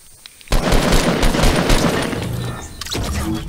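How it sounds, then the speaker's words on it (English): Fortnite gunfire in an Xbox match: a dense, loud burst of rapid automatic shots erupts after a quiet start and rattles on for a few seconds, then cuts off and is followed by a few scattered shots. "So I go around, start shooting him while he's crawling down the stairs."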